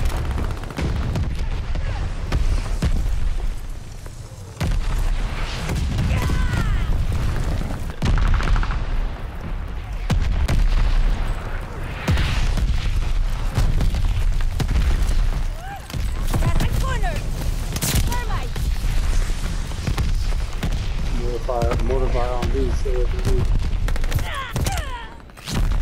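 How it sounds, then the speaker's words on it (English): Mortar fire and explosions in the video game Call of Duty: Vanguard, a dense stretch of loud booms and crackling gunfire that runs throughout, with voices talking over the battle. "Friendly mortar fire coming. Mortars incoming."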